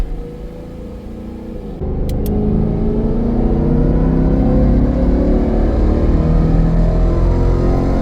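A supercharged Ford Mustang S650 makes a loud, close, sustained engine drone in valet mode on a dyno, starting lower and then stepping up into a steady heavy rumble that holds for several seconds, with no voices.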